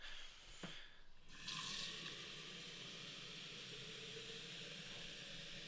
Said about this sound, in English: Do you hear that, folks? It's water. Running water.